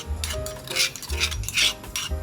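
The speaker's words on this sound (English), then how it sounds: "When your pan begins to smoke, add a tablespoon of oil and drop in the garlic and chilies" Garlic and chilies frying in a tablespoon of oil in a smoking-hot pan for a Thai kana moo krob stir fry, a sizzle under rhythmic metal utensil scrapes and clinks against the pan, close and fairly loud.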